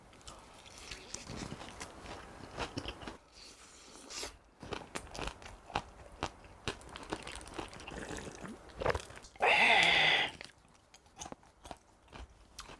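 Crispy fried chicken coated in cheese seasoning is bitten and chewed up close, with repeated loud crunches and crackles in an irregular rhythm and a louder burst of crunching near the end.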